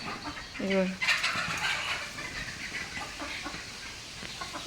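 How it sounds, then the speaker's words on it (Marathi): A single short chicken cluck sounds early, followed by a soft, continuous hiss and faint background noise. "इकडे आहे आपल्या कोंबड्या"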